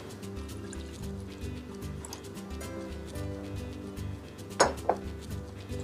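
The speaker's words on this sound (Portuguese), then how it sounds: "adiciona mais um pouquinho de água" Water poured into a pan while cooking a Thai curry, a light trickle under a steady rhythmic kitchen background, with two brief clinks of pans or utensils near the end.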